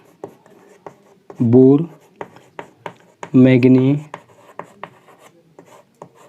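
Chalk or marker writing on a board during a 12th-grade physics lesson on magnetism, heard as short scratchy strokes and taps scattered between bursts of a man's lecturing speech.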